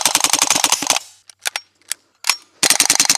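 A cheap airsoft gun from Amazon fires BBs in a quick run of snappy shots, then a few scattered single cracks, followed by another rapid burst, all sharp and close-up.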